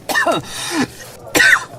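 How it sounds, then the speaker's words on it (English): Two rough, raspy coughs close up after pipe smoke, the first drawn out with a throaty tail, then a short pause before a sharper second cough. "he let off a few wild coughs"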